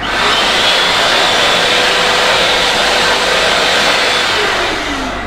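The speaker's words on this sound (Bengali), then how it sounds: "hand dryer, touch free" A touch-free hand dryer in a restroom blows with a loud, steady roaring whoosh, running continuously and easing off slightly at the very end.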